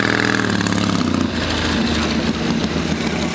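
Triumph motorcycle engine running at a show, a loud steady mechanical rumble with a rapid pulsing beat, close by, dropping slightly in pitch partway through.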